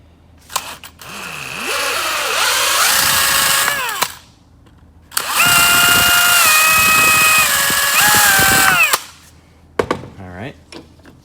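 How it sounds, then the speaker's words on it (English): A power drill bores a hole through plastic clamped in a vise, two long whining bursts with pitch shifting as it cuts, separated by a pause and followed by a few clicks and knocks. "now we're gonna drill the hole"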